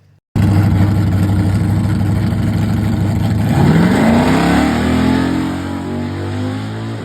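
A Chevrolet Camaro making a drag racing pass at Tulsa Raceway Park bursts in loud and close, its engine roaring steadily and then climbing in pitch as it accelerates through the run, with no voices.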